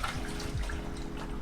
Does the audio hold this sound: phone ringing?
no